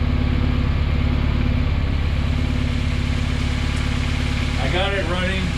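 A Honda Civic with a K-swapped engine idles steadily, a close, even low-pitched rumble throughout, with someone speaking briefly over it near the end.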